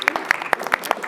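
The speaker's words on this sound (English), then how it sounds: "Round of applause." Brief applause at a live conversation event on the future of English: a handful of distinct, crisp claps spaced a beat apart, sparse rather than a full ovation, sounding like a few people clapping nearby.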